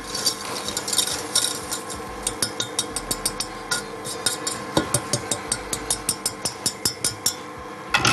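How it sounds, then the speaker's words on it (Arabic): Sugar stirred in a pan for caramel, a close, rhythmic series of utensil scrapes and clicks against the pan that grows more regular toward the end. "عندي دلوقتي الكراميل، اقلب بقى السكر ده كده"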